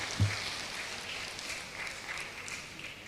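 Applause from an academic audience at Unhas university during a rector's installation ceremony, a faint, distant spread of clapping that holds steadily throughout.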